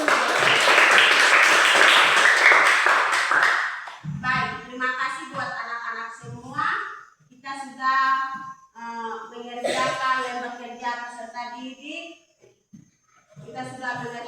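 Classroom audience of children claps together for about four seconds, loud and close, then stops and a woman teacher's speech takes over.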